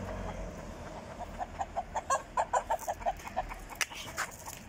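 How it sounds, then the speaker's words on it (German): A rooster on a beach clucks in a quick run of about a dozen sharp, evenly spaced clucks that swell to the middle and then fade, fairly close, with a brief louder squawk near the end. "Guck mal hier mit der Hahn, der will angreifen, der will angreifen."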